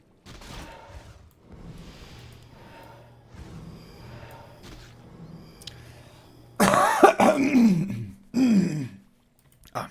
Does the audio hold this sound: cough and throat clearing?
yes